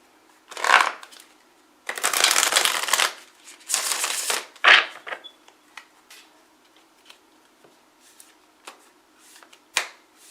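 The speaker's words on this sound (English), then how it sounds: "I'm going to shuffle another deck." Cards are riffled and bridged in several quick bursts, followed by softer scattered taps and flicks as the deck is squared, close up.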